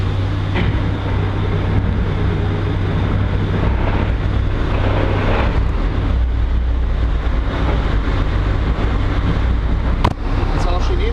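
Peterbilt 352 truck's diesel engine rumbles loud and steady right after a cold start in deep winter cold, a dense continuous idle with no pauses, close by.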